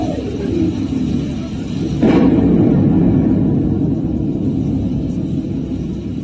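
A deep, sustained rumble of thunder rolls through steady heavy rain, swelling suddenly partway through and lingering loud and close.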